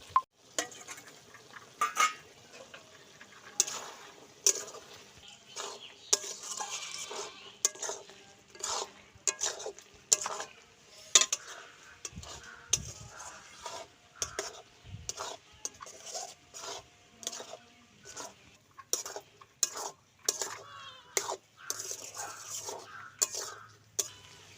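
A spoon scrapes and stirs repeatedly through a pan of small fish and taro stolon curry, a long run of close, rhythmic metallic scraping and clatter over a faint cooking hiss.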